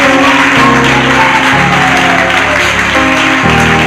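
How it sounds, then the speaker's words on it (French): A church congregation applauding steadily throughout, a dense continuous clatter of clapping with music underneath. "Si tu veux acclamer, acclame bien."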